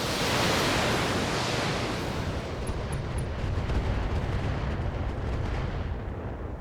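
Missile launchers fire in BattleTech as a continuous heavy roar of rumbling launches and blasts, loud and noise-like throughout, with a few faint high pings mixed in.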